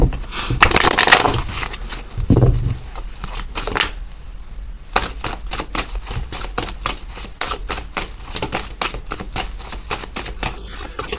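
Tarot cards shuffled by hand during a reading, giving close, brisk riffling and slapping bursts that come in quick clusters, with a loud flurry near the start and steadier rapid card flicks after a short pause.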